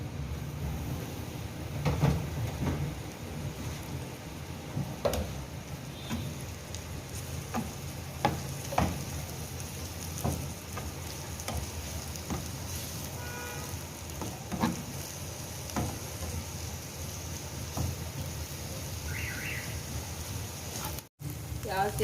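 Chopped onions and finely cut ginger sizzle and fry steadily in a pan while being stirred for a goat brain masala, the crackle continuous and close, with occasional utensil clinks and someone talking over it.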